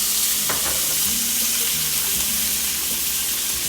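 Kerrygold butter sizzles and spits steadily in a hot pan alongside a seared ribeye steak, a loud, continuous frying hiss with low bubbling throughout, close up and without talk.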